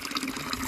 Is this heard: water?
yes